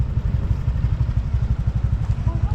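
A Honda Click motorcycle engine runs steadily nearby with a low, rapid, pulsing putter and some clatter, holding a constant idle-like rhythm with no talk over it.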